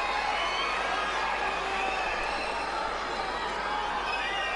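A crowd at a tennis match in Chennai gives a rousing ovation, a dense, loud and continuous roar of applause and cheering that fills the whole stretch without a break.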